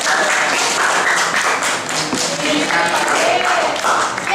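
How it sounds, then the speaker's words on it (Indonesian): Students in a classroom clapping their hands, a dense burst of applause with sharp taps, loud and close throughout. "Tepuk tangan."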